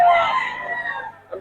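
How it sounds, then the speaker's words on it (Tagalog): A rooster at a Bocaue fowl dealer crows in one loud, drawn-out call that fades over about a second, with a faint rustle at the end. "Marami pang manok sa Boss Jeff."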